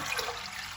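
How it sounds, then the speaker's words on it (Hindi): Water pours steadily into a pot of chana dal, a brief, even rushing splash with no voices. "जितनी दाल है उतना ही हम पानी इसके अंदर ऐड करेंगे"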